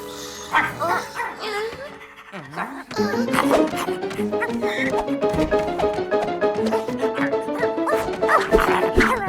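A cartoon dog yips and barks amid animated-series music and playful character voices, the barks short and bright, mixed in with the busy score and talking.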